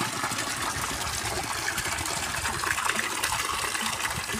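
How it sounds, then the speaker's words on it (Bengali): Strong irrigation water gushes into a field channel of a spiny gourd plot, a loud, close, steady rushing flow with no speech. "দেখুন আজকে জলের প্রচণ্ড প্রেশার।"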